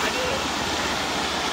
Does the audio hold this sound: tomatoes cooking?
no